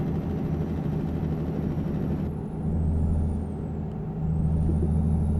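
Semi-truck engine brake (jake brake) in the American Truck Simulator video game, a loud continuous low rumble and drone with a brief dip in the middle before the roar resumes, alone with no talk.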